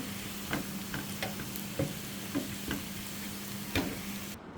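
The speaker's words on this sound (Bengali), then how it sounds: "এখানে আমি এই তেলটা একটু পেঁয়াজ কুচি আর মরিচ ফালি ভেজে নিব" Chopped onion and sliced chili frying in hot oil in a home kitchen, a steady soft sizzle broken by a few sharp clicks and stirring knocks, close and alone with no voices.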